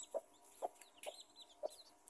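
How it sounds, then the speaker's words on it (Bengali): Chickens with their chicks cluck softly and faintly, four short evenly spaced clucks about half a second apart over a quiet background. "দেখেছেন আমাদের মুরগির ছানা?"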